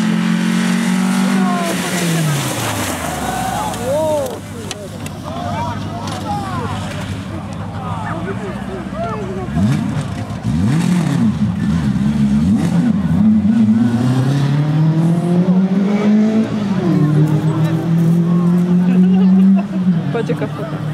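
A Lada rally car on a stage of the 56th Istebna Rally Wisła revs and shifts through gears, its engine rising and falling repeatedly over about twenty seconds while a spectator talks nearby.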